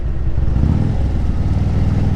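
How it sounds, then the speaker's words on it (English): A 2010 Harley-Davidson Street Glide rumbles close by while downshifting, its engine a loud, low, pulsing drone that holds steady across the short stretch. "Drop a gear."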